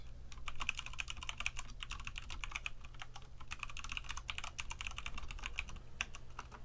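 Rapid, uneven clicking of keys on an Obins Anne Pro 2 60% Bluetooth keyboard, continuous and close, with brief pauses between bursts of typing.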